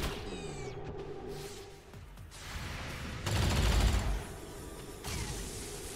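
Bursts of gunfire crack out in XCOM 2 Long War of the Chosen, a loud volley of shots mid-clip set among mechanical creaks and game effects, with no talking.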